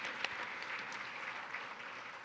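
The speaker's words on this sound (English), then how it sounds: "a round of applause to everybody in the room here" Applause from a conference audience at a state workforce forum in Texas, a steady mid-level wash of clapping lasting a couple of seconds with no voices over it.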